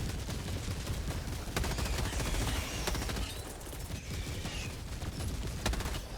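Gatling barrage fire in Helldivers 2, a dense roaring volley of rapid shots and booming impacts rolling on without pause, loud and close, with no talk.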